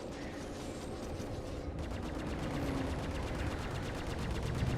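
A space shotgun fires in the Star Citizen video game amid a dense, continuous roar of rapid gunfire and ship rumble that stays loud throughout.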